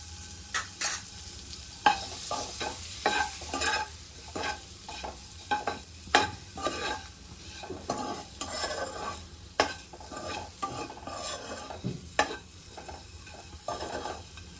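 Eggs are sautéed with masala and garam masala in a kadhai, giving a steady sizzle broken by repeated scraping and clinking strokes of a spatula against the pan.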